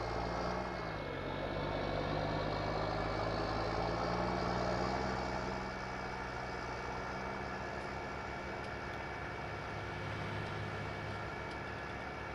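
A tractor engine in Farming Simulator 19 idles and drones continuously, low and heavy, with a slight shift in pitch early on and no voices.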